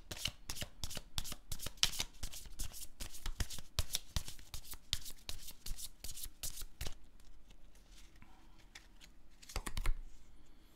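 Affirmation cards are shuffled in rapid bursts of crisp riffling and flicking, close and fairly quiet, pausing briefly before a final flurry of card snaps near the end; no one speaks.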